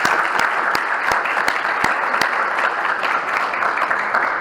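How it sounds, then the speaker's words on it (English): Audience applause at a conference kickoff honoring the AV team members, a full, steady roar of clapping with a few crisp individual claps popping out, close and sustained. "Give Russ and Mac a round of applause."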